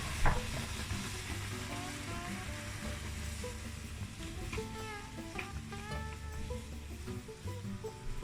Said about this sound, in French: Et il faut mélanger, il faut continuer à mélanger.